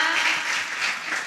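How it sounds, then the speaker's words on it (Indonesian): Audience applause at a youth dialogue event on teen health, a short, loud, continuous patter of many clapping hands lasting just over a second. "boleh deh tepuk tangan dulu dong untuk kita semua"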